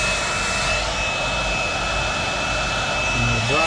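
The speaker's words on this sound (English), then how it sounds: "So we're going to reset up the hairdryer" A hair dryer's steady, droning motor hum with a whooshing airflow runs unbroken from start to finish, close and fairly loud, drying a coat of basement leak repair.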